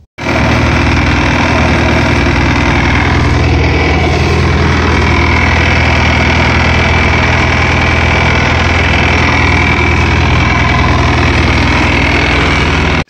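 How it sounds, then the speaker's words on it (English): A Mercury MerCruiser 3.0L sterndrive engine on a Bayliner boat runs steadily on earmuffs, a loud, close, continuous idle with a constant low rumble and vibration throughout, no talking. "I'm gonna put the earmuffs back on and run it real quick and warm up the oil"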